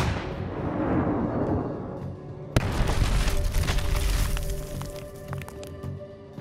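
A test detonation of a bomb replica heard from a bunker several hundred meters away: a rumbling roar that decays, then a sudden sharp crack followed by a long, loud, rolling boom and debris rattle.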